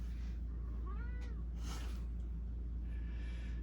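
A house cat gives a short meow midway through, faint against a steady low background hum, with a few soft rustles around it.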